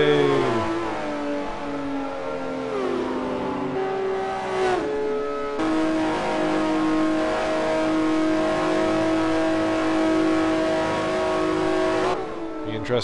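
Porsche and BMW race cars accelerating on track, engines revving loudly and steadily with rising pitch sweeps through gear changes. A commentator talks over the engine noise.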